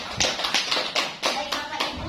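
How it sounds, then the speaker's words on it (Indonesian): A school audience of teachers and students claps briefly, giving a burst of rhythmic, fairly close hand claps with faint voices mixed in. "tepuk tangan untuk kita semuanya"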